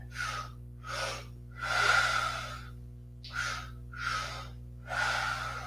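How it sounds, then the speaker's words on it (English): Slow, deep breathing in a yoga class, six audible breath cycles of long inhales and exhales alternating at a steady rhythm, close and clear, with a faint steady hum underneath. "Last 5 breaths, go deep."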